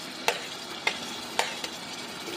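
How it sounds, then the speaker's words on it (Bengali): Ginger garlic paste fries quietly in a pan under a faint, steady sizzle. Three or four sharp spatula scrapes land at regular intervals as it is stirred. "ভালোভাবে নাড়তে হবে।"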